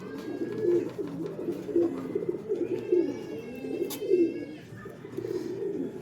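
Racing pigeons coo steadily after returning home from a derby race, a near, continuous run of soft throaty coos with faint higher chirps above.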